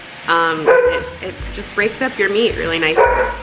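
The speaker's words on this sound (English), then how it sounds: "that's my dog" A dog barks a few times in a home kitchen while food sizzles in a pan, the barks mixed in with close, steady talking.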